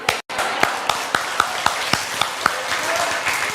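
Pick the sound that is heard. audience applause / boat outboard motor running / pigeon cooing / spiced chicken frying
audience applause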